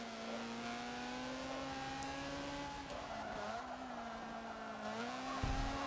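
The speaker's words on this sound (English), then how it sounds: "Oh yeah, Spoon's doing some drifting" Car drifting in the Forza 7 racing game, a sustained engine drone with squealing tires sliding through a corner, steady and moderately loud.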